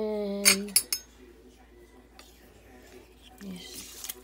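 Ingredients for beef stew, with spice rub and bay leaves, are stirred in a crockpot, giving a few sharp metallic clinks and scrapes of a utensil against the pot near the start and again toward the end.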